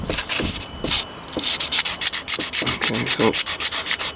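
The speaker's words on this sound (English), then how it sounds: "with a little bit of sandpaper, sanding away like that" Sandpaper rubs back and forth over the rocker cover of a Mk1 Audi TT in steady, rhythmic strokes, close and fairly loud, with a brief spoken phrase at the start.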